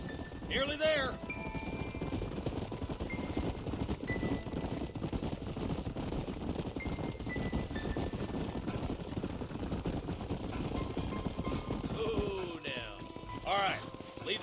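Horses' hooves clip-clop steadily across the ground in the Western video game Red Dead Redemption, a continuous rhythmic trot under wind and ambient noise, with a voice talking briefly at the start and near the end.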